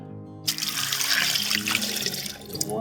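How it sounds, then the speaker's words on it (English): Water gushes into a pot of washed yam after a brief quiet start, a steady, fairly loud splashing flow that runs on without any talk. "What I'm going to do now is to add water."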